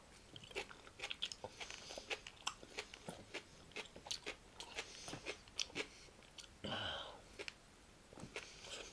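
Bacon is chewed close to the mic with steady, moist crunching bites that continue throughout, broken near the end by a brief burst of louder noise.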